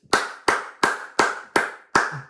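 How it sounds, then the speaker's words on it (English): Hands clapping close by as applause for an AFL player, six sharp, evenly spaced claps in a steady rhythm. "bit of a round of applause for the absolute legend himself"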